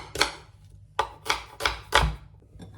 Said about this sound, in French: Je prends la moitié d'un oignon. Je le coupe.